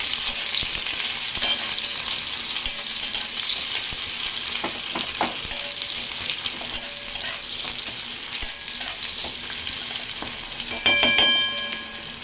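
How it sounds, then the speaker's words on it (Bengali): Sliced onion fries in hot oil in a wok, giving a continuous close sizzle with occasional clinks and scrapes of stirring. "কড়াইতে তেল দিয়ে পেঁয়াজটা দিয়ে দিলাম"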